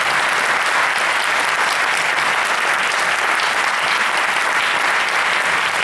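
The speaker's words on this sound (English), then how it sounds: "Give them a round of applause" Full, dense round of applause from a seated audience at a community talk session, steady and loud from start to finish, with no voices breaking through.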